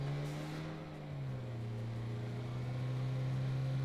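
A car engine in PUBG drones steadily and close, its pitch shifting slightly as it holds a continuous revving tone with no speech.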